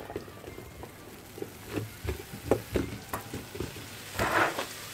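Chestnuts crackle and sizzle in a hot pan, with scattered pops and soft scraping clicks, a louder burst of hissing near the end.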